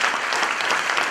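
Audience applause fills the room steadily, a dense, sustained wash of many hands clapping at once, loud and close with no voices on top.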